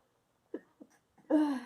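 A single sneeze bursts out close to the microphone at a desk, preceded by a couple of short breathy catches, then a loud voiced snap with a brief tail in an otherwise quiet room.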